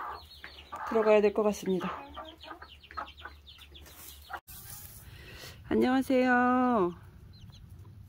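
Backyard chickens clucking in short harmonic bursts near the microphone, with a louder call late on, while people speak briefly in Korean.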